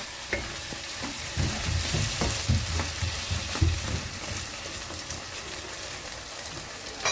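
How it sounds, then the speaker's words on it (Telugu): Raw prawns frying in onion paste, a dense crackling sizzle with repeated scraping stirs against the pan, loud and close, with no one talking. "ఉల్లిపాయ పేస్ట్లోని ఫ్రై చేస్తే ఈ ఫ్లేవర్ అంతా కూడా రొయ్యలకి పట్టుకుంటుందండి"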